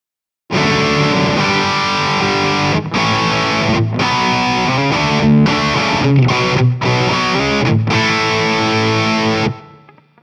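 A heavily distorted high-gain electric guitar with compression and a noise gate plays sustained chords with short breaks, echoing delay and reverb trailing off at the end; loud and up close.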